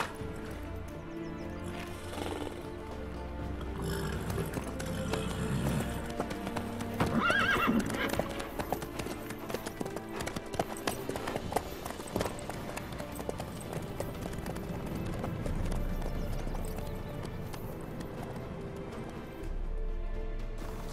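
Horse hooves clip-clop steadily in The Witcher 3, with neighing rising over the continuous galloping rhythm, set in a dense, busy mix.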